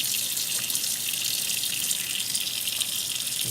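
Tap water runs steadily into a sink as hands are washed beneath it, a continuous close hiss with no talking.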